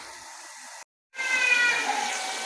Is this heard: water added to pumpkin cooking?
yes